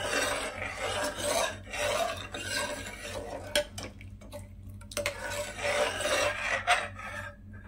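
A spoon stirs vanilla essence and saffron into a milkshake mixture in a bowl, giving soft scraping and rubbing strokes that come in uneven, fairly quiet bursts with short pauses between them.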